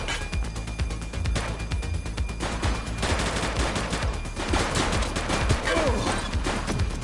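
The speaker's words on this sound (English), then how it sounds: "Ah, she's shooting!" Sustained, dense gunfire from a shootout in the police video game The Precinct, with loud rapid shots rattling almost without pause for several seconds and a brief voice in the mix.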